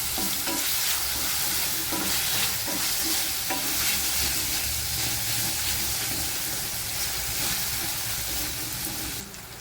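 Tomatoes sauté in a pan with ginger garlic paste, a dense constant sizzle and hiss close by with repeated spoon stirring scrapes, easing off slightly near the end, no speech.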